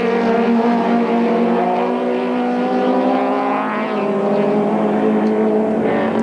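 Toyota and Ford modified saloon race cars battling side by side at Goldfields circuit in 1993, a loud sustained engine howl with shifting pitch as they power toward a corner, no voices over it.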